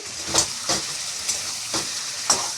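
Chicken fries in a pan in its own released juices, giving a steady, close sizzle. A spatula scrapes and stirs at irregular intervals, making several louder sweeping strokes over the hiss.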